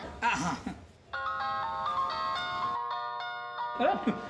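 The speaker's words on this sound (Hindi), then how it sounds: "सुंदर भाई, आपके फोन।" An electronic phone ringtone plays a looping melody of bright tones, with speech briefly before and after it.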